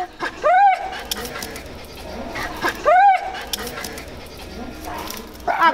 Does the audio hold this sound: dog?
yes